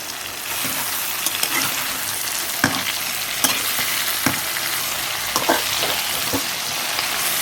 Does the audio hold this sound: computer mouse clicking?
no